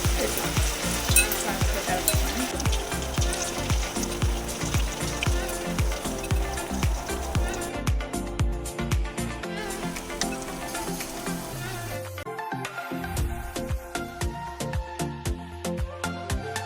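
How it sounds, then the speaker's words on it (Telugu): Battered, boiled cauliflower for gobi 65 deep-frying in hot oil: a steady, close sizzle with bubbling crackle and occasional stirring scrapes throughout, no talking. "ఇది ఆల్మోస్ట్ ఫ్రై అయిపోయాయి."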